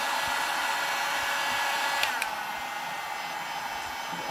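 A hot air tool blows steadily against the back of a mould, its even whooshing hiss holding close and loud throughout, with a brief click partway through.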